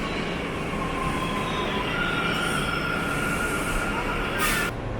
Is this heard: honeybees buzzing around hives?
no